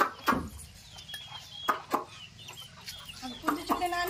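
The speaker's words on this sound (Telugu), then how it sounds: "పుంజొస్తుంది అగ లచ్చన్న ఆగ పుంజు చూడు" A large rooster clucks in short, separate bursts, several in a row, fairly close by, with scattered background noise between the calls.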